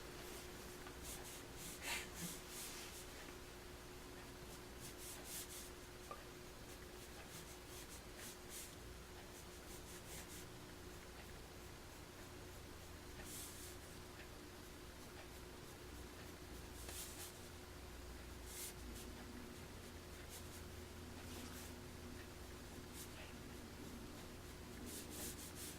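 Pencil sketching on a large sheet of brown paper, a faint, continuous dry rubbing and scratching with irregular stroke bursts, close and quiet, no talk.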